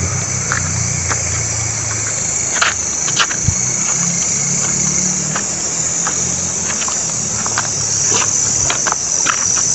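A dense, continuous chorus of crickets chirping loudly and steadily in the dark at night, with frogs present, a low rumble underneath and occasional faint taps.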